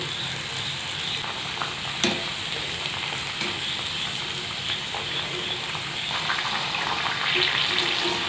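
Rice flour pitha frying two at a time in hot oil in a wok, a steady bright sizzle running throughout at moderate loudness with a small clatter near the start and a slight rise toward the end.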